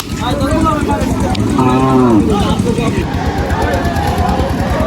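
Cattle at a busy livestock market in Kaladia Bazar, Pakundia, with one loud, close, drawn-out moo rising and falling over a constant crowd hubbub and people talking.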